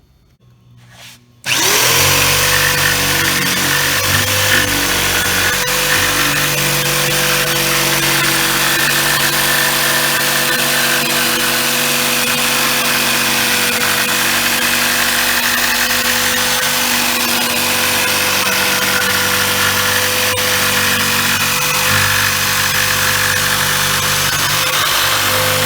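A power saw cuts steadily through a wooden board being prepped for resin geodes, starting after a brief quiet moment and then running loud and continuous close by.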